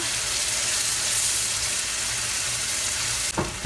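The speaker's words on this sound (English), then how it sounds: "Now let's add tomatoes. The onions are so happy to receive tomatoes in their company. Now they will be cooking together." Chopped tomatoes and onions frying together in a pan give a loud, steady, close sizzle that continues throughout, ending with a brief scrape of stirring and no talk.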